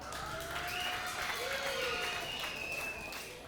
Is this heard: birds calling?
no